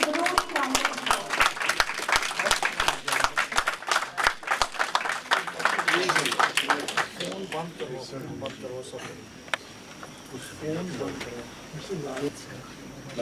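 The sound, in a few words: audience applause welcoming the speaker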